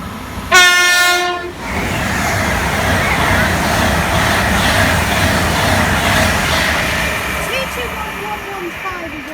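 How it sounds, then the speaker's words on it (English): A West Coast express from London Euston to Holyhead passes close on the West Coast Main Line at Kings Langley, opening with a short, loud two-tone horn blast followed by a sustained, heavy rumble of wheels and carriages rushing by. "It's a fancy West Coast service to Holyhead, from London Euston to Holyhead."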